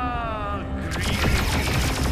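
Pistol gunfire in the Star Wars: Tales from the Galaxy's Edge video game, a quick run of sharp shots crackling close by after a brief tonal opening, loud and continuous for about a second.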